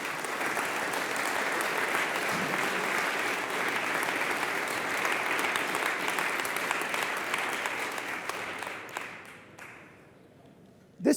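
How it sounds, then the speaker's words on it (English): Conference audience at a DEVCON1 Ethereum talk gives sustained applause, a dense steady wash of clapping for about nine seconds that thins and fades out near the end. "We really owe them a big round of applause"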